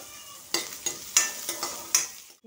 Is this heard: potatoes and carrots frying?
yes